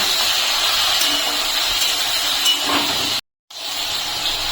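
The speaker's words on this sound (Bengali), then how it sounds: "এখন হলুদ আর লবণ দিয়ে আমি ভালো করে ভেজে নেব।" Okra frying in oil with salt and turmeric gives a steady, close hiss of sizzling that runs evenly, cuts out to brief silence for a moment, then resumes at the same level.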